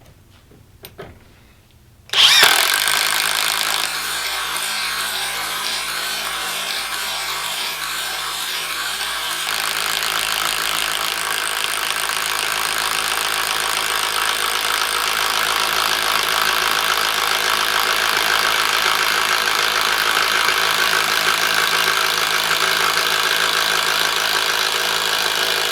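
A Kobalt cordless drill on speed setting 3 bores through wood with a paddle bit. After a sharp click, a loud, steady whirring grind runs without a break for over twenty seconds.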